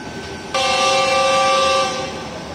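A train horn sounds at Karachi Cantonment railway station: one loud, steady tonal blast that starts abruptly, holds for about a second and a half, then fades back into the station's rumble.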